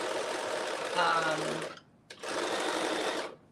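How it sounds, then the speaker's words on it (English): Bernina sewing machine running in steady, fast bursts: a long stitching run, a brief stop with a click, then a second run, close and loud, with faint talk in the background. "what do I think about the Bernina sewing machine?"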